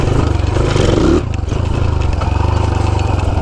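A small-displacement Honda C90 motorcycle engine drones steadily while riding down country lanes, a loud continuous low hum with a brief dip in level near the start, no voices.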